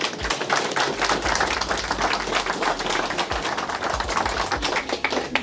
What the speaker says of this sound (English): So I think that in itself deserves a round of applause.